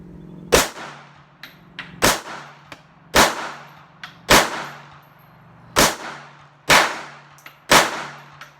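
Handgun shots at an outdoor range from a Sig Sauer P238 or Auto Ordnance 1911 A1, seven sharp, loud reports spaced about a second apart with ringing tails and no talk.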